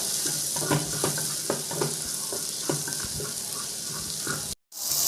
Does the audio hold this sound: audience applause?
no